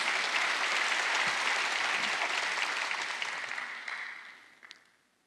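A church congregation at a Wednesday worship service breaks into sustained applause, loud and dense at first, then thinning and fading out over the last couple of seconds.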